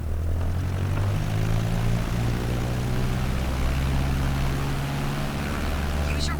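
A propeller airplane engine runs at full power for takeoff in a flight simulator game, a loud, steady droning roar with a constant low hum that continues unbroken throughout.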